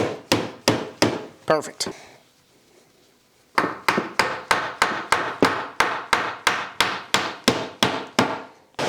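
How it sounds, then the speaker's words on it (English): Wooden dowels hammered into a clamped board, heard as a run of sharp, evenly spaced blows close up. A short spoken word comes just before a brief quiet pause, and then the steady hammering resumes. "Then we're gonna drive those dowels right into there."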